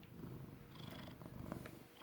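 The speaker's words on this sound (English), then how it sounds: "Can you hear me over the purring?" A cat purrs close by in a quiet room, a soft, steady low rumble with gentle rhythmic swells of breath.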